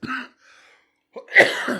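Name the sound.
cough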